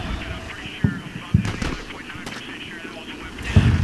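Gunfire in the Combat Mission: Shock Force war game, several sharp distant shots and bursts scattered irregularly over a low rumbling battle backdrop, with a voice talking.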